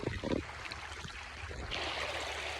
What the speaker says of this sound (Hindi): पतली सी पानी की जलधारा बहते हुए और ये चले गए हैं ऊपर की ओर।